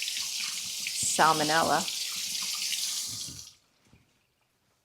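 Kitchen tap water running steadily into a sink as hands are washed under the stream, close and continuous for several seconds before being shut off, with a brief spoken word partway through.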